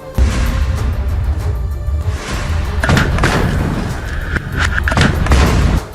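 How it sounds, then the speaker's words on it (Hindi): A rocket strikes an Israeli armored vehicle in Gaza, giving heavy booming blasts and dull thuds in several loud bursts over a rough background rumble. "सही जगह पर पहुंचते ही उन्होंने पहले निशाना साधा और फिर रॉकेट छोड़ दिया, जिसके बाद जोरदार ब्लास्ट हुआ"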